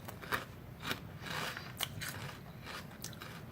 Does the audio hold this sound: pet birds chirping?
no